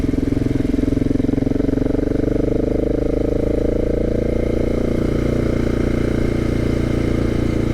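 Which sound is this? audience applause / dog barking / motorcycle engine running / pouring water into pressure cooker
motorcycle engine running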